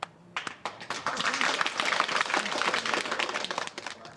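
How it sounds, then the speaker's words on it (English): Scattered clapping from a small group of construction students at a university training event, a loose patter of hand claps building for a few seconds with a voice talking over it. "Round of applause for me."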